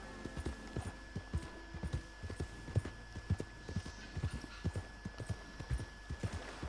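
A horse walks at an easy pace in the Red Dead Redemption 2 video game, its hooves clopping in a steady, even rhythm of soft, distinct hits over a faint low hum.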